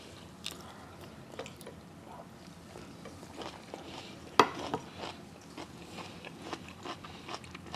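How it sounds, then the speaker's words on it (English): Crunchy aged, fermented kimchi being bitten and chewed close up, giving a run of small crisp crunches and one sharp louder bite, with no talking. "I love it when you bite into the kimchi and it goes asak asak"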